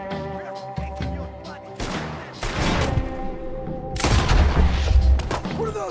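Gunfire rings out in the Western video game Red Dead Redemption 2: loud overlapping shots and booming volleys build through the clip over a layered game soundscape.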